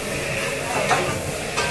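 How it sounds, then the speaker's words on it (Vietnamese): Crab pieces fry in a pan as fundraiser food is prepared, giving a steady, close sizzle with soft stirring scrapes and a brief louder flare near the middle. "Tại sao phải chiên? Nó thơm."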